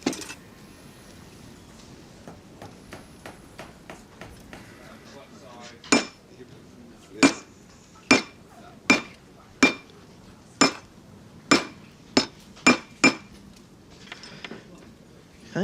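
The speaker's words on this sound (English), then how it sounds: "Now we do that by hammering it around a bangle mandrel" Sharp metallic hammer blows ring out at a steady, even pace as a metal bangle is hammered around a mandrel, about a dozen strikes after a few quiet seconds.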